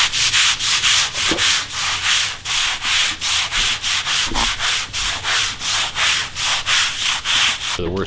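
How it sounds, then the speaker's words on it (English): Brush scrubbing a pool's stained walls during an acid wash, loud rhythmic rasping strokes repeating at a steady pace, close up, with no talk. "Just scrubbing up those walls, working the darker area there."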